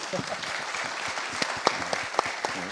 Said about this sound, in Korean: 여기서 박수 한번 쳐드리시죠.